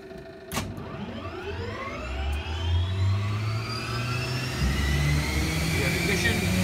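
A Bell 429 helicopter's turbine engine lights off after a sharp click, then spools up with rising whining tones over a growing low rumble, loud and close.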